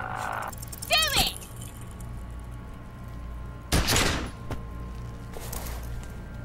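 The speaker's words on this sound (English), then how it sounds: "You hear an explosion." A loud explosion erupts in the video game Disco Elysium, a sharp blast preceded by an earlier crack, both set over a steady low droning score.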